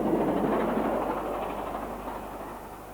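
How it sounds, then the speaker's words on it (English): A preserved Bulleid light Pacific steam locomotive, Tor Valley, rolls along the rails with a steady, broad rumble and clatter of running carriages, fairly loud and gradually fading, with no voices. "Tor Valley, one of many Bulleid's light Pacifics to be preserved, has enjoyed 5 successful years running countless mainline specials"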